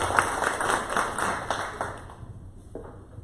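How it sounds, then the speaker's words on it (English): Applause for a care support speaker at a business event, scattered claps from a modest audience that thin out and fade near the end, with a faint tone behind. "let's give her a big round of applause"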